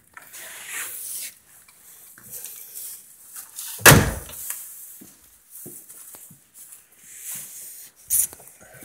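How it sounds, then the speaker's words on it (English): Farmstead door opening and closing on a new farm, a sharp loud bang near the middle with softer rattles and shuffling scattered around it. "the door comes out here."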